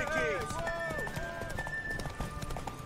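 Horse hooves clip-clop in The Witcher 3, a quick trotting beat mixed with game music and a voice speaking over it.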